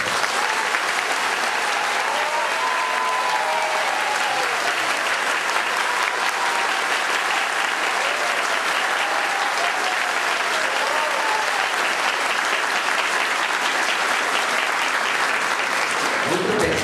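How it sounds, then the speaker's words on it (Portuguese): A parish congregation in a hall gives a long round of applause to its priest, a dense, even wash of clapping that carries on steadily with crowd voices murmuring beneath before it cuts off. "esse muito deve ser expresso também com uma salva de palmas"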